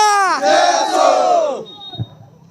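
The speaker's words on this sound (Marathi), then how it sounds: "तर त्यांचा जल्लोष आपण बघणार आहोत" A crowd of tribal youth at a political rally lets out a loud, rising battle-cry cheer of many voices together, holding for about a second and a half before breaking off and fading.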